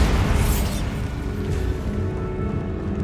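A Bombarda spell explosion in Hogwarts Legacy opens with a loud booming burst, then settles into a rumbling tail for about three seconds, with no voices.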